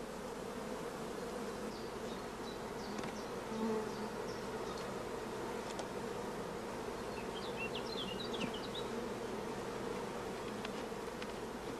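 Honey bees buzz steadily around brood frames in an open queen-rearing hive, a dense continuous droning hum with occasional louder passes of single bees close by.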